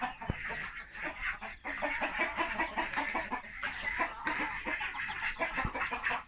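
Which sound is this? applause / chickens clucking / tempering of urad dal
chickens clucking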